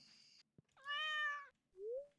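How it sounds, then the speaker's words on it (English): A cat meows in a farming life-sim video game: a faint opening chirp, a small tap, then a clear, loud drawn-out meow followed by a short rising mew. "Pet the cat on the way into bed"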